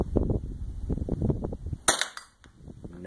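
A single sharp .22 rifle shot rings out at a home shooting range, following low background rumble and murmur and trailed by a brief fading echo.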